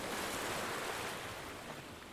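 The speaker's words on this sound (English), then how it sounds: "Brill's ship is still sucking up ocean water" Steady, loud roar of rushing ocean water and surf in an animated adventure episode, as a ship draws seawater in with strong suction; continuous and broadband with no voices.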